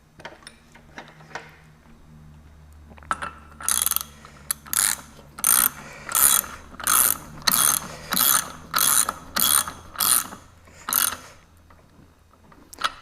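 A ratchet wrench tightens the propeller nut on a 40HP Mercury outboard motor, giving a close, loud run of about a dozen sharp, evenly spaced ratcheting clicks after a few quieter fiddling taps.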